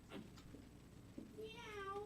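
A person imitates a cat at a comedy show, giving a short, faint meow-like vocal near the end after a few quiet knocks and shuffles.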